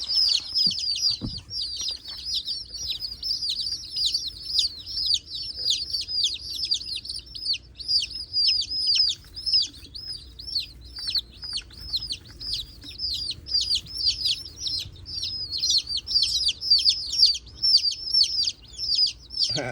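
Dense, high-pitched chirping and clucking from many chickens, continuous and loud throughout, with a brief low thump near the start.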